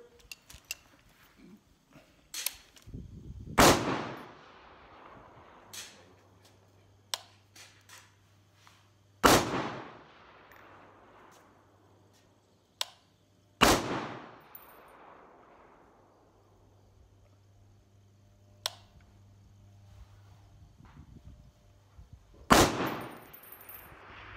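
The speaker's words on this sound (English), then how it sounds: "We're going to be shooting it out of my SCAR 17, which is a 16-inch barrel." A SCAR 17 rifle with a 16-inch barrel firing Malaysian surplus 7.62x51 ammunition outdoors, four loud, sharp, well-spaced single shots, each followed by a ringing decay, with faint background hum between them.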